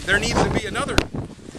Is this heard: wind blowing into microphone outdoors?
yes